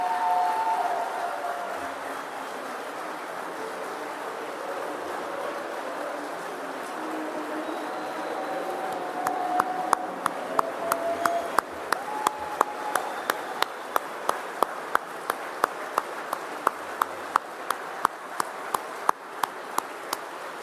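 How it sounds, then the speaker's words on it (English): An audience at the Sandhurst awards ceremony applauds, first as a soft distant patter, then with sharp, evenly spaced claps standing out near the end. "Please give them a round of applause for their hard work and dedication for making this a world-class event."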